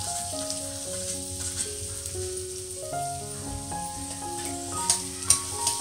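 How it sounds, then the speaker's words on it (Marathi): Finely chopped onion frying in melted butter in a kadai for street-style pav bhaji, a continuous soft sizzle with occasional stirring clinks and sharper spatters toward the end. "आता आपलं बटर पूर्णपणे मेल्ट झालेलं आहे। त्यामध्ये आपण बारीक चिरलेला कांदा टाकूया।"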